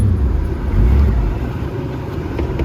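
Engine of a 1967 Ford Mustang convertible, a deep, steady low rumble running close and loud for the whole stretch with no voices.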